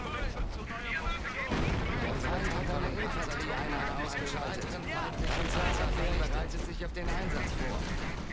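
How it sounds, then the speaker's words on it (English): Artillery and gunfire crash through a Company of Heroes battle as mortar teams come under attack, a dense, continuous barrage of booms and shots with people talking over it throughout. "they're attacking my mortar teams."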